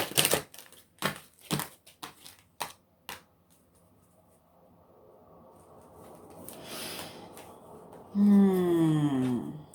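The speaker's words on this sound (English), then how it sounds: "It's been a while since I cut this deck." A tarot card deck is cut and shuffled, with a quick run of sharp, papery slaps and riffles over the first few seconds, then near quiet, ending in a short voiced sound.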